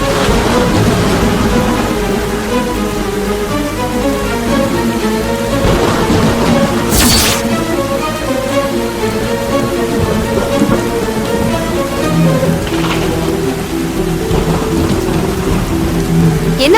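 Heavy rain pouring down in a steady loud roar, with a low rumble of thunder underneath and a few sharper cracks, constant and close throughout.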